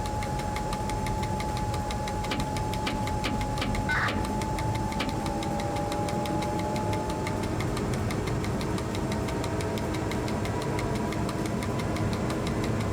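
A diesel locomotive's engine rumbles loud and steady inside the cab in the game Train Driver 2, a constant heavy drone with rattling vibration and a faint whining tone running through it.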